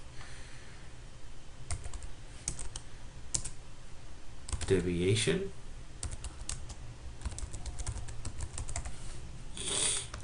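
Someone types on a computer keyboard at a desk, scattered key clicks running throughout, with a single spoken word heard briefly mid-way.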